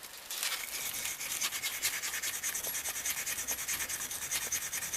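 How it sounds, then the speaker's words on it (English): Coarse brush scrubbing heavy rust off a Millers Falls breast drill: rapid rhythmic bristle strokes, close and steady, a continuous scratchy rasp with no voices. "And I'm using a coarse brush."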